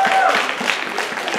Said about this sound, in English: Big round of applause for all the little fishies.